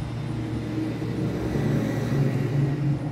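Low, continuous rumble of road traffic passing at a distance from a house by a road, a steady background hum with slight swells.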